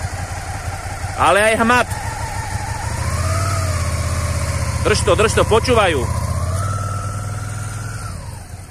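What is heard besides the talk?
motorcycle engine idling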